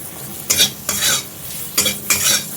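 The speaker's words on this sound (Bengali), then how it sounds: "হলুদ দিয়ে ভাজা হয়ে গেছে" Food seasoned with turmeric fries in a pan while being stirred: four bursts of loud scraping and sizzle come about half a second apart over a lower background hiss, with no voices.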